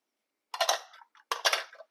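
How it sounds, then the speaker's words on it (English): Quick washing and drying of a measuring cup in a home kitchen, two short bursts of splashing and rubbing separated by a brief pause, close and fairly quiet, with no voices. "I'm done with the measuring cup. I do a quick wash, quick dry, and put it away."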